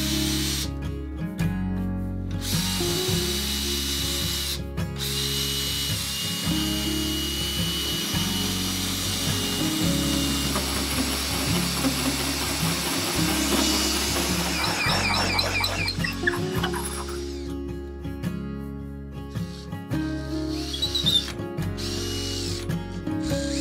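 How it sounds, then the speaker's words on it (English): A drill fitted with a large hole saw runs at low speed cutting through a wooden dory transom, a steady rhythmic grinding and chattering that grows rougher midway and continues loud throughout. "when using large hole saws, the best thing to do is just put it on low and go slow"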